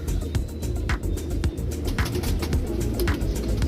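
A pigeon cooing in a loft, low throaty pulses repeating in a steady rhythm at close range, with clicks and handling noises over a rumbling background.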